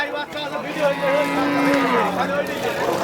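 Cows moo loudly several times amid a busy crowd at a cattle market, with people talking and general market bustle around them.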